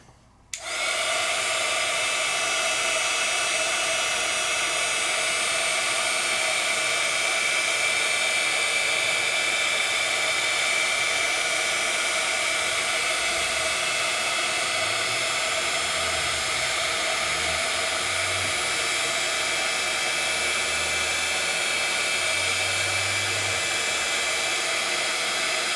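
A heat tool warms embossed stencil work with a loud, steady blowing whoosh that starts abruptly and runs unbroken, close and alone.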